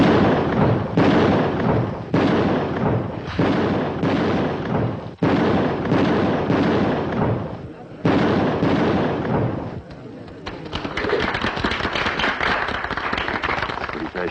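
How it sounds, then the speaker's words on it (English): Rapid string of loud gunshots from a shooting demonstration of a bank's security in an old western setting, sharp repeated cracks at close range followed by a rougher, noisier stretch. "Pretty fair shooting, Mr. Jones."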